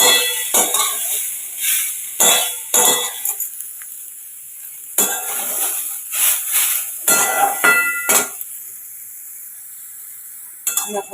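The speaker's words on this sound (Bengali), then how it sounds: "এটাকে একটু ভাজতে হয়" Grated carrot frying in ghee with bay leaf and cardamom, bursts of sizzling and stirring scrapes broken by short quiet gaps, close by, with no talking.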